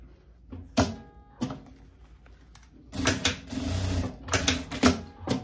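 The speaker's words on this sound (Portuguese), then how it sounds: "a gente faz uma costurinha de trava" A sewing machine stitching a bar tack into a blazer lining, with short rapid mechanical bursts starting and stopping, then a longer dense run of stitching, close and clear with no talk.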